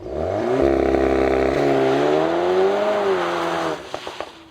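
A 2023 facelifted VW T-Roc R with 300 hp launches hard under launch control, its engine note loud and close, climbing steadily in pitch for several seconds before cutting off into a few clicks.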